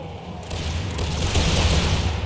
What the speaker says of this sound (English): A good volley in.